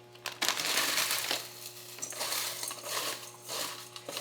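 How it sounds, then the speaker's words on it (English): Potato chips are crushed by hand in a big bowl, giving a close, continuous crunching and crackling in uneven bursts, with light clinks against the bowl and a steady low hum underneath. "So just crush them by hand."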